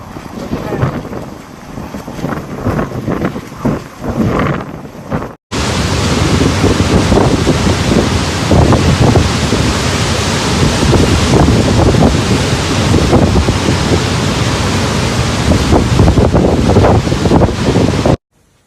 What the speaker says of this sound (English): The powerful storm brought destructive winds, intense rainfall, and dangerous coastal conditions